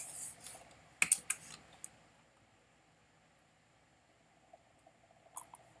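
A few quick clicks and short bursts of keyboard typing come at the start, then a long near-silent gap and a couple more soft clicks at the end, close and faint, with no talking.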